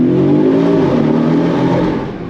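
A Porsche 718 Cayman's four-cylinder engine revs hard and steadily with rising harmonic tones, loud and close, easing slightly toward the end with no talk over it.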